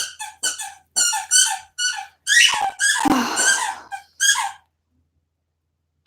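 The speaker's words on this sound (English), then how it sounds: "I'm sure you guys can hear that lovely squeaking." Repeated high-pitched squeaks, likely from a squeaky toy, come in quick, uneven bursts close to the microphone during a German Shepherd live stream, then stop abruptly, followed by silence.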